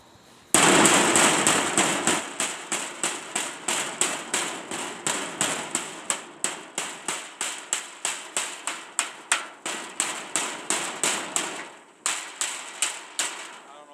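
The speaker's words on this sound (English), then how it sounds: "Where's me hammer? Here's my hammer." Rapid, steady hammer blows ring out close by, dozens of sharp metallic strikes in a fast rhythm with a brief pause near the end.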